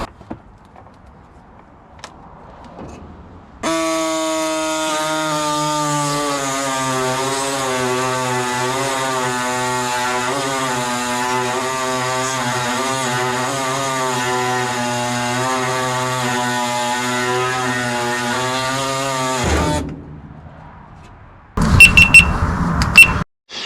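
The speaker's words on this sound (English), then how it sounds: "I have my air saw here" An air saw cuts welded metal on the rocker panels of a 1967 Ford F100, starting after a quiet lead-in with a loud, steady, high buzzing whine that holds for about sixteen seconds and then cuts off, followed by brief clatter.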